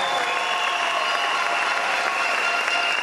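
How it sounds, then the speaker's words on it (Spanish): Strong, steady applause from a large audience at the opening of the Mister Universo Venezuela 2015 pageant. The clapping is dense and sustained at an even level, with a faint crowd murmur beneath it. "para él pido un fuerte aplauso"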